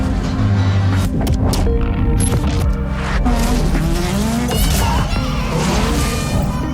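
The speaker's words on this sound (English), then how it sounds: "His 2021 Subaru rallycross car, the same vehicle he wheeled in the Emmy award-winning Tale of the Dragon film." A 2021 Subaru rallycross car driving hard, engine revving loudly with repeated tire squeals and skidding, backed by heavy mechanical rumble, close and intense for the whole stretch.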